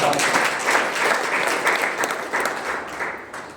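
Audience applause at a business gathering: steady, dense clapping from a crowd that holds at a fairly even level for the whole stretch, with no talk over it.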